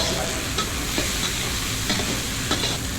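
Cumin, bay leaf and onion sizzle in hot oil as the base for a lamb curry, a loud, continuous close-up frying hiss with a few light stirring scrapes.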